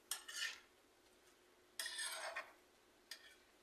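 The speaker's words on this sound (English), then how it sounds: "Let's give that a good stir." A utensil stirs shrimp pasta salad in a bowl, making three short scraping and clinking strokes with quiet pauses between them. The sounds are close and fairly soft.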